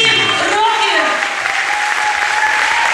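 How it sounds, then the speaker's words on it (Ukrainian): A loud, dense burst of audience applause at a children's singing concert, with a sung or sustained voice and crowd sounds mixed in early before the clapping carries on steadily. "оплески!"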